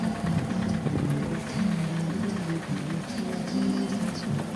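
A vehicle rumbling along a riverbed track beneath an unfinished bridge on the Kathmandu to Phungling route, a continuous low engine drone with wavering pitch and steady loudness.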